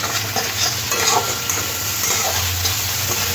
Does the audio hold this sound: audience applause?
no